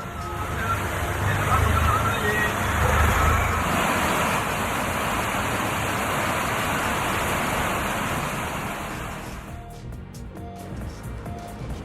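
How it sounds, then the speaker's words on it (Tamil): Rain falls across parts of Puducherry as a steady, dense hiss that fills about nine seconds, then cuts away abruptly to a quieter, sparser background. "பல்வேறு இடங்களில் மழை பெய்தது"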